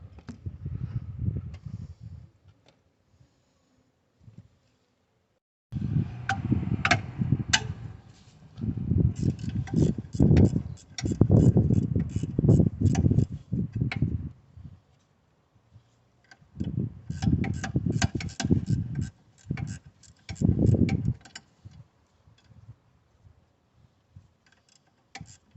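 Caliper holder bolts on a Mazda 6 rear brake are worked loose with a hand ratchet, long runs of rapid ticking clicks near and fairly loud, broken by brief pauses and low scuffs.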